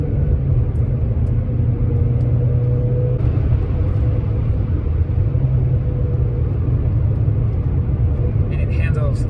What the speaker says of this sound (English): It's been a long time since I last drove this car fast